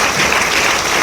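Audience applause fills a Q&A session with Jon Favreau and Kevin Feige marking Iron Man's tenth anniversary, a steady, dense wash of many hands clapping at close range throughout, with no pauses.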